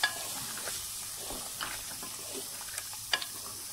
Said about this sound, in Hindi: टमाटर और सब्ज़ मिर्च का पेस्ट जो है वो शामिल कर देंगे, और इसे मीडियम से लो फ्लेम पे अच्छे से भून लेते हैं।